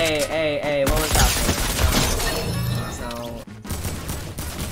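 Shotgun blasts from a tactical shotgun in a video game, several sharp reports mixed into busy game audio and music, with a person talking over the action.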